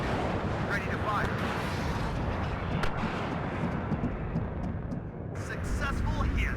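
Artillery fire in the war strategy game WARNO rolls as a continuous heavy low rumble with scattered sharp cracks and booms. Distant-sounding blasts layer over one another, and radio-style voices talk over the din.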